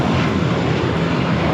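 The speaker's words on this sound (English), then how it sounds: "This is American Airlines 184 taking off to JFK on the A321" American Airlines Airbus A321 taking off from Los Angeles International Airport, a brief dense burst of loud, steady jet roar with a low rumbling floor.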